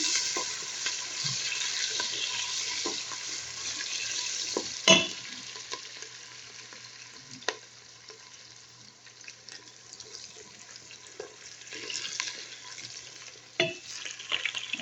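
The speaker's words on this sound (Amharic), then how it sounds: "ዘይቴን ጨምሬ እያቁላላሁ ነው" Browning onions sauté in freshly added oil, a continuous close hiss with occasional clinks and stirring scrapes, louder at first and then settling lower, with no talking.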